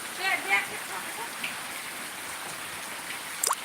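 Heavy rain pours steadily around a flooded house, a constant close hiss of falling water with faint voices now and then.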